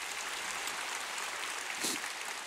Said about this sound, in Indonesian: Boleh tepuk tangan buat mereka Asyir Parkir?